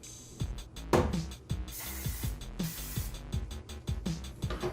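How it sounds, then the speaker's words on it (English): Cooking spray misted onto each side of a hand-held pizzelle iron: short, quiet hissing bursts mixed with light clicks and clatter from the iron nearby. "You'll want to put a little bit of cooking spray on each side."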